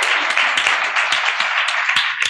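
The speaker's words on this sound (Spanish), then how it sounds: "Un aplauso para Ernesto, público" A television studio audience bursts into dense, sustained applause for a contestant named Ernesto, the many hands merging into a steady bright roar that holds evenly from start to finish.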